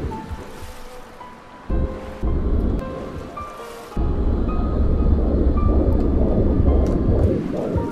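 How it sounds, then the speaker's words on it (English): Ocean waves wash onto the shore of an island in the Dear Esther video game, a steady loud surf roar with swelling breakers and rushing water throughout. "So we've got, you know, the water."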